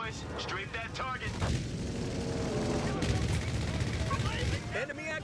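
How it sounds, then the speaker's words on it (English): An aircraft strafing run in Company of Heroes 3 rips through as dense, rapid gunfire bursts and booming impacts in a busy battle mix, with voice chatter heard over the barrage. "Strafe that target."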